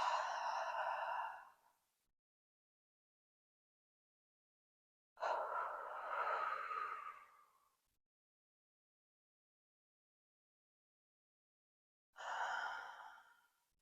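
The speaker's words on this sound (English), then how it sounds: "3 breaths." Three slow, deep yoga breaths taken while holding goddess pose, each a long audible exhale or sigh lasting a couple of seconds, with silent pauses between them, close and soft.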